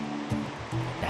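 A mountain waterfall pours into a fast-flowing rocky stream in Kalinga, a steady broadband rush of water sounding close and full, with no talking over it.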